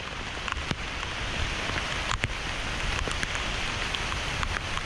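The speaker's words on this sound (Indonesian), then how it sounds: "Sepanjang jalur pun kami ditemani hujan yang cukup deras." Heavy rain pours steadily on a mountain hiking trail in Bukit Raya, Central Kalimantan, a dense continuous hiss with scattered louder drop impacts, close and unbroken throughout.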